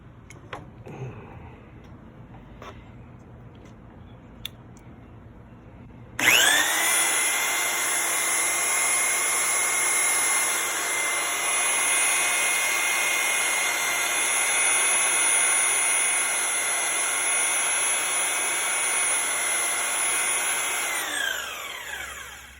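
Pump for a Harbor Freight tubing bender fitted with an off-road kit kicks on abruptly and runs steadily with a loud, even whine and hum for about fifteen seconds before stopping.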